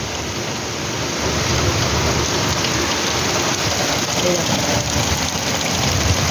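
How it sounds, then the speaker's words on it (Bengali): A heavy downpour in Belgharia roars steadily and loudly throughout, a dense, continuous hiss of rain pounding surfaces with no voices. "বিশাল জোরে, মানে মুষলধারে যেটা বৃষ্টি সেরকমই হচ্ছে"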